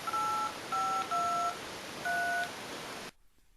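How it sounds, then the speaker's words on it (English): Dialing tones from a Nokia Lumia 800 smartphone: four short clear touch-tone beeps in a quick uneven sequence over faint background hiss, ending abruptly in near silence. "That's how you dial the number, of course."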